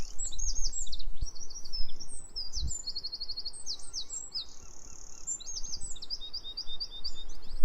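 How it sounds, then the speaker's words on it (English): A wren sings rapid, high chirping phrases that run into fast rattling trills during the dawn chorus, continuing over a soft outdoor background hiss. "That is a wren."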